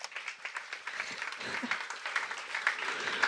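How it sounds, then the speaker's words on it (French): Audience applause during a talk on spiritual kinship, steady moderate clapping throughout, somewhat distant and soft. "Vous pouvez applaudir."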